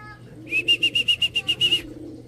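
At a loft during a racing pigeon derby, a pigeon gives a run of about ten rhythmic, wavering coos close to the microphone over a quiet background.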